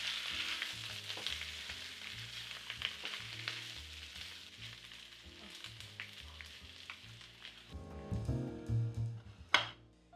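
Chicken, potatoes and onions sizzle quietly in a pan over lowered heat, a faint even crackle broken by a few soft knocks, then louder clattering and a sharp clink near the end.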